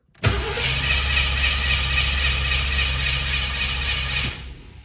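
A Ford Mustang with its choke on is cold started on the first try and fails to catch. After a brief cranking onset, a loud, steady engine roar holds for about four seconds, then cuts off abruptly.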